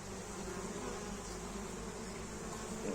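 Honey bees work a hive entrance bringing in pollen loads, a constant close droning hum of many insects buzzing together, steady and unbroken with no voices.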